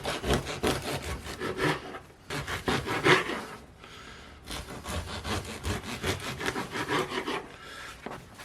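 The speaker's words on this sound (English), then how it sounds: "I'm going to take this bagel. I'm going to cut it in half, just so it's easier to work with." A knife saws back and forth through a bagel in quick rasping strokes, slicing it thinly in a few bursts with short pauses between, close and crisp.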